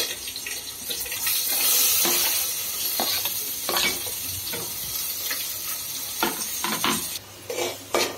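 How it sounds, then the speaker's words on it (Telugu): Onions fry in a pan with a bright continuous sizzle, punctuated by stirring scrapes and clatters, close and fairly loud throughout. "ఇది లైట్ గా కొంచెం ఉల్లిపాయల్ని వేయించుకుందాం।"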